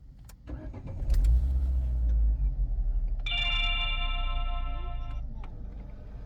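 A Citroën C4 with a P0134 oxygen sensor fault code is started: a short starter crank, then the engine catches and settles into a steady idle nearby, with a chime sounding in the cabin.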